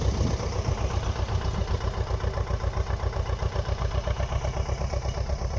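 A tractor engine idles and chugs with a steady pulsing clatter in a field during wheat sowing, continuous and fairly close, with no voices.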